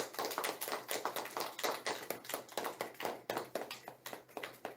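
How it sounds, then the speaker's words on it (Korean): A church congregation at a Presbyterian church in Busan applauds its pastor, giving quick, even, rhythmic hand claps that sound fairly soft and somewhat distant throughout. "박수로 좀."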